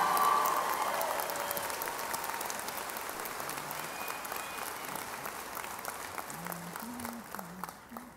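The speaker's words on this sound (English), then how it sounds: "Please join me in a round of applause for this outstanding teacher." A crowd at a high school graduation ceremony applauds a teacher steadily, loudest at the start and slowly tapering off over several seconds.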